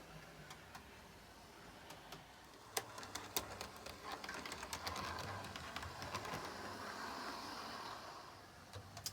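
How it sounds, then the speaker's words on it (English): A Hornby Class 153 DMU model train runs along its track with a faint, continuous rolling rattle. Scattered light clicks are mixed in, and the whole sound stays quiet and distant. "So this locomotive, she's very smooth on the track."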